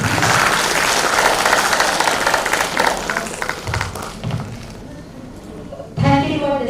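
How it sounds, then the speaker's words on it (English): Applause from a conference crowd for a panel fills the start, a dense clatter of clapping that tapers off, with a brief louder rustle near the end. "May I have a round of applause for the panelists?"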